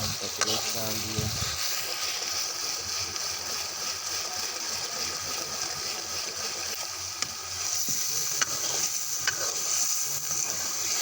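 Ginger garlic paste sizzles and fries in a hot pan while cooking brain masala fry, a steady close crackle throughout with a few sharp pops and faint background voices.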